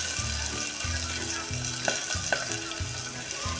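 Washed rice is sautéed in a pea tempering for Brahmin-style masale bhat, made without onion or garlic. A continuous close frying sizzle runs throughout, with a couple of faint scraping stirs and low steady tones underneath.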